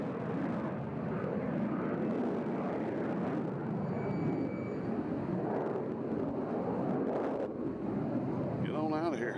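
Airliner climbing steeply after takeoff from Nashville International Airport, a broad steady engine roar filling the clip at moderate distance, with wind noise on the microphone throughout.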